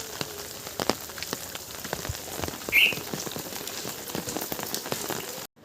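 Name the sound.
heavy rain falling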